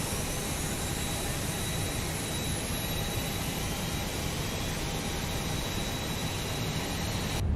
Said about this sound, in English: let's fire engine number 2